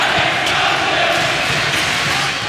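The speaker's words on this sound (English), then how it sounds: "Crowd's feeling it here." Basketball arena crowd at a Jacksonville State vs Belmont game roaring and cheering in a steady, dense wash of noise that stays loud throughout with no break.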